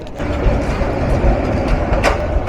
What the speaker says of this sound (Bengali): লোকোমোটিভ রিভার্স করে আমরা আবারও যাত্রা শুরু করলাম ঢাকা মুখে।